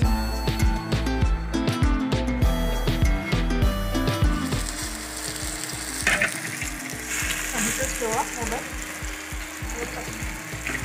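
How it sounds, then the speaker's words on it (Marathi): Fish fries in a pan at a village home, with a loud, continuous sizzle and crackle, plus scattered clatter and stirring knocks over the hot oil. "आता यामध्ये आपण मासे फ्राय करून घेऊयात"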